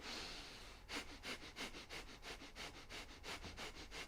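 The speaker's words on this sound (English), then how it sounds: "then you do Breath of Fire, and it looks like this" Breath of Fire breathing exercise: a person pushes out a rapid, even series of about a dozen sharp nasal exhales, close and fairly quiet, after a brief inhale, with no talking.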